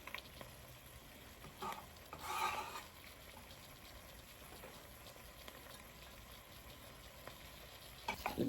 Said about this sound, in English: So I'm going to go ahead and put in my 3 cloves of garlic now.